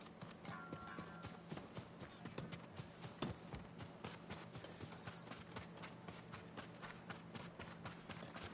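Horse hooves clip-clop in a steady rhythm at a moderate distance in the video game Ghost of Tsushima, over a constant low background hum, with no talking.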